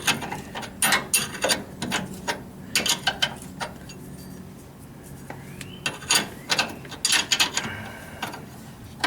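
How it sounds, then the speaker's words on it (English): A wrench works the bolts on a 1962 Chevrolet Biscayne during a power steering conversion, giving irregular close metallic ratcheting and scraping bursts with short pauses between turns. "so I'm just using the wrench that I had"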